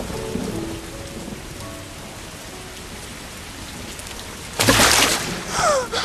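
Heavy pouring rain falls steadily on a surface, loud and close, with a sudden surge of downpour or thunder near the end.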